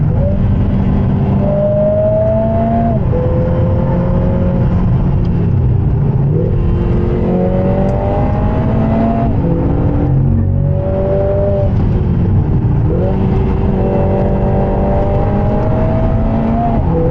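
Race car engine accelerating hard through repeated gear changes on a Nürburgring lap, its loud rising revs climbing, cutting back and climbing again, close up and continuous for about seventeen seconds with no talking.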